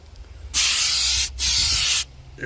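An aerosol can of bed liner coating hisses out in two loud, close bursts split by a brief gap, with quiet before and after.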